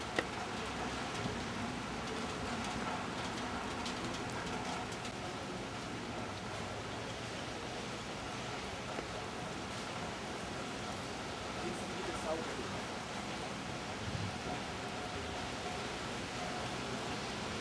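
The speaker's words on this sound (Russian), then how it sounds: "Дождик, но это не пугает нас." Steady rain falls on Laisvės Avenue, a long city avenue in Kaunas, Lithuania, making a continuous even hiss of drops that holds at one level throughout, with faint murmur beneath.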